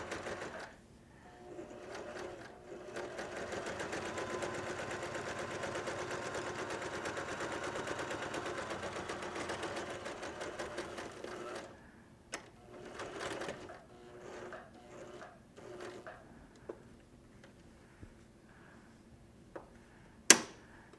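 Sewing machine stitching through a difficult, stiff fabric for a potato bag, a steady rapid close whir for about ten seconds followed by short start-stop bursts and faint handling clicks.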